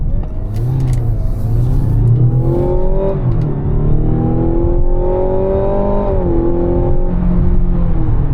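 A 2025 Mazda CX-70 PHEV accelerating at full throttle, heard from inside the cabin as a loud, steady engine drone that climbs in pitch, drops briefly at gear changes and climbs again, with no voices.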